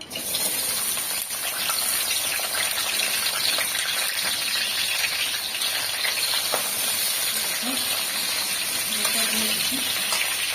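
Sliced cucumber going into hot oil in a village kitchen pan gives a steady, loud hissing sizzle that runs unbroken, with faint stirring clinks near the end.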